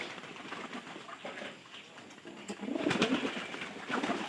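Pigeons being paired in a loft coo softly and intermittently, fairly close, with light rustling and shuffling movement around them and no talk.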